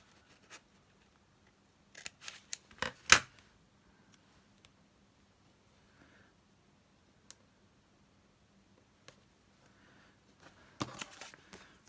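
Scissors snip through vintage floral paper ephemera for a junk journal kit, a few quiet, sharp clicks and cuts in small clusters against a near-silent room.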